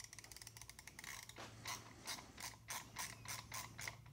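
A Klein ratcheting stubby screwdriver clicks as it loosens a screw, a quiet, close series of sharp ratchet clicks in an irregular rhythm with no voices.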